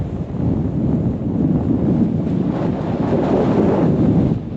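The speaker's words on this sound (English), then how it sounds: "It's a bit of a wind tunnel in here right now" Steady, loud wind rushes and buffets through a hay barn, a continuous broadband roar with gusty swells lasting throughout, with no voices.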